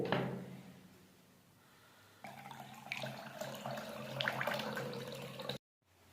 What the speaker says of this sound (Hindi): और थोड़ा सा हम इसमें पानी ऐड कर लेंगे।